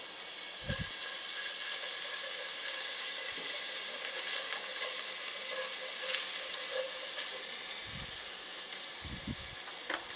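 Curry ingredients for a stick-bean and potato curry crackle in a hot pan, a steady broadband sizzle with low thumps from stirring scattered throughout, with no one speaking.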